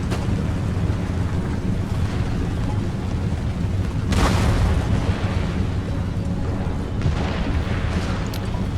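Artillery in Empire Total War booms during a United States attack on a British fort, a deep rumbling roar with heavy blasts standing out over continuous battlefield noise.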